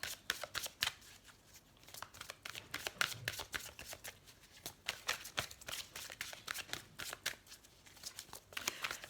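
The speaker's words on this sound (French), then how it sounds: "on va tirer une petite carte" A deck of oracle cards is shuffled by hand in quick, rhythmic riffling bursts, close and crisp, continuing steadily throughout with no talking.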